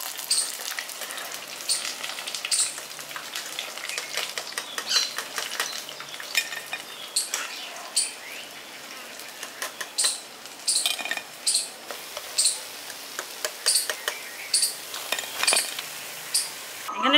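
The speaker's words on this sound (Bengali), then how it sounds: "এখানে চিকেনের টুকরোগুলো উল্টে পাল্টে আমি লালচে করে ভেজে নিয়েছি। এবার এগুলো আমি তুলে নিচ্ছি।" Fried chicken pieces for village-style Chicken 65 lifted out of hot oil in a pan, with repeated sharp clinks and scrapes of a utensil against the metal over a quiet sizzle.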